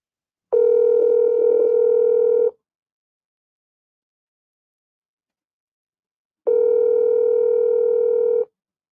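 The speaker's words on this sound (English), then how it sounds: "All right, let me call him again." A telephone ringback tone heard while placing a call: two long, steady electronic rings of about two seconds each, separated by a four-second silence, clear and alone with no talking.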